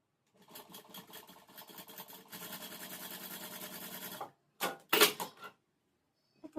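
A sewing machine stitches a blouse in a rapid, close mechanical chatter, running in two bursts and then stopping. A few short sharp handling clicks follow.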